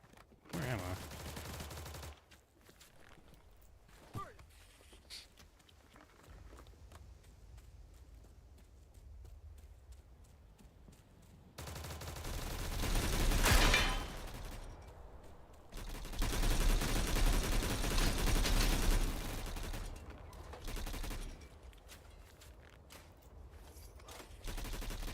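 Sustained bursts of light machine gun fire in a shooter game, two loud extended volleys in the middle stretch after quieter in-game ambience and scattered sounds, with a voice talking at times.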